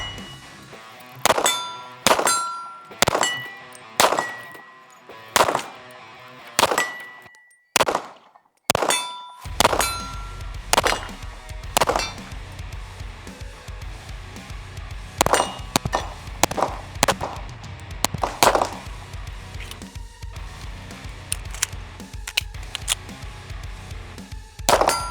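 Jacob Grey NOX9 pistol firing a string of sharp shots, the spent brass casings clinking and clanging after each, first spaced out and then coming in quicker succession, outdoors with no talk.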